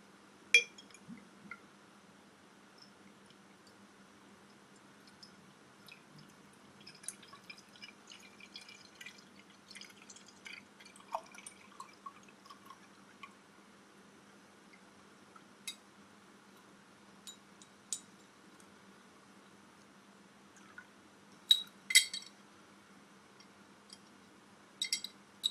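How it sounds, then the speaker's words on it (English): Honey ale, a cloudy 5% homebrew from Rockland, Ontario, poured into a mug: a faint, quiet trickle and drip of liquid, with a few soft glassy clinks near the end and no talking. "get a nice pour"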